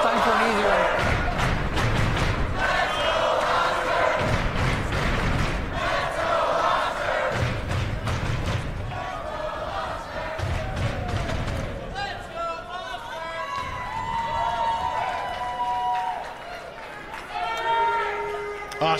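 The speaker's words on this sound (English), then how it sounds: "Oscar eating up the support of the crowd." A loud crowd of fans cheers and shouts in repeated bursts at a Mosconi Cup pool match, then fades to murmuring chatter while a commentator talks over it.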